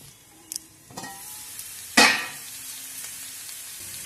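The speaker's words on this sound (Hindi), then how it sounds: "अच्छे से हम सब्जियां फ्राई करेंगे।" Vegetables frying in a pan for atta noodles, made without garlic or onion, give a steady low sizzle with a few sharp stirring clicks and one louder hiss burst midway, close by and with no talking.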